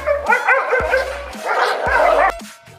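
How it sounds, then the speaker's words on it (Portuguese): The neighbour's dogs bark and yip in several short bursts, close and fairly loud, with whiny, excited tones between the barks. "tem uns cachorros do vizinho ali"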